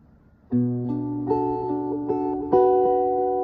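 Fingerpicked acoustic guitar notes ring out one after another, building into a sustained chord with a fresh pluck near the end; close and clear, no talking.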